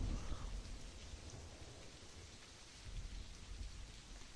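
Steady rain falls in a dating sim video game, a dense, continuous patter with a low rumbling undertone that holds at an even level throughout, with no voices.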